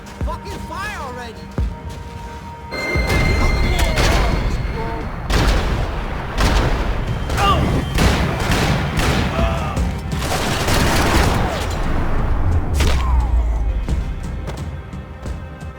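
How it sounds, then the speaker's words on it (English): Gunfire crackles in the video game Max Payne 3 in rapid bursts and overlapping volleys. The shots are loud and close, with booming impacts mixed in. "Gunfire over Hoboken."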